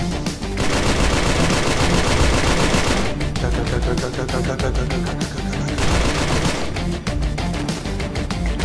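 Sustained automatic gunfire in the VR shooter Special Force VR, dense rapid bursts filling the whole stretch, loud and close, with brief shifts in intensity and no clear talk over it.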